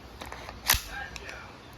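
An Umarex Colt M45 CQBP 1911-style air pistol fires one 4.5 mm steel BB, giving a single sharp, short crack that rises briefly above quiet background.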